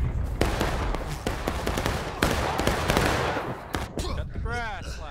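Musket gunfire in War of Rights, with many sharp, loud cracks going off irregularly across a busy battle din, and voices calling out now and then over the shooting.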